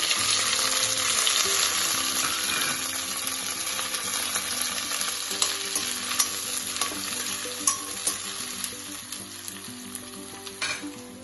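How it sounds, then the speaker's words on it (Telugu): Sliced onion and curry leaves fry in hot oil with bay leaves, a loud, dense sizzle running steadily throughout, with stirring clinks and scrapes popping up more often toward the end. "ఇప్పుడు దీంట్లో సన్నగా కట్ చేసుకున్న ఆనియన్, కరివేపాకు వేసుకున్నాం."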